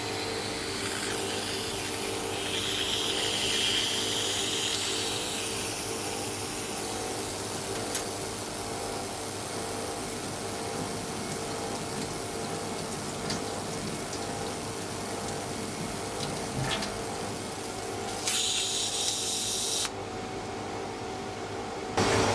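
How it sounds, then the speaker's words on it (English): A specialized thin-section grinding machine, holding microscope slides by strong vacuum, grinds them to exact thickness, a steady broadband hum and hiss with a low pump drone running throughout, loud and continuous with no speech. "This very specialized device uses a strong vacuum to keep the microscope slides in place while it is being ground down to exactly the right thickness."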